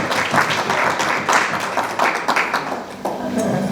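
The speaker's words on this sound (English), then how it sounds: "Give her a round of applause." An audience at a skeptics' stage mentalism show bursts into brief, lively applause with overlapping claps and a few voices mixed in, tapering off near the end.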